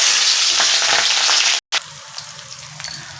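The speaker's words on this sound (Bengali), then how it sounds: "তো আমাদের তেল কিন্তু একদম গরম হয়ে গেছে, এর মধ্যে আমি সাদা জিরে দিয়ে দিচ্ছি। এবারে দিয়ে দিব পেঁয়াজ।" Onions and white cumin seeds crackle and sizzle in very hot oil for a Bengali chickpea dish, a loud, steady broadband frying hiss that cuts out briefly near the middle, then returns as a busier sizzle with scattered pops.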